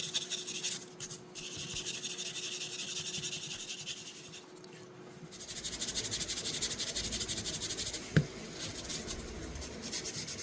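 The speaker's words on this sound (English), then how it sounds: "just lightly sanding back and forth." Continuous light scraping and rubbing as sandpaper is worked back and forth over a rusty jack knife blade, close up, with a brief sharper scrape partway through.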